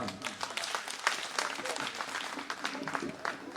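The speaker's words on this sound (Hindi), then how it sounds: "एक बार आपकी जोरदार तालियां मैं चाहता हूं" An audience at a Hindi poetry gathering applauds after a woman's poetry recital, the clapping fairly faint and distant but steady and thick throughout.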